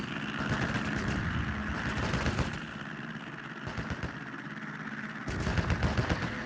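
In a naval combat video game, a warship's front gun fires amid rapid, rattling bursts of gunfire over a low, steady engine rumble, with a louder cluster of shots near the end.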